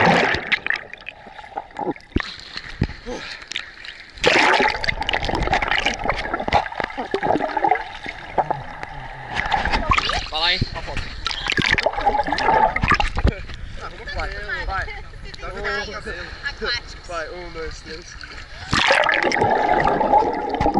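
People wading into the sea at a hot beach in Brazil, with loud continuous splashing and churning water mixed with wind, while several voices talk and shout excitedly throughout.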